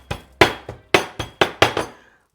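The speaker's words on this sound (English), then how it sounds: "So you want to take your ginger and then give it a little bit of a smashing." Fresh ginger being smashed for tea, six or seven sharp, hard knocks in an uneven rhythm, close and loud with a slight clinking ring, then silence.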